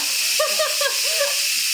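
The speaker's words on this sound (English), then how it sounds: "Let all that built up pressure out." A loud, continuous hiss of steam venting under pressure from a pressure cooker, while a voice speaks briefly over it.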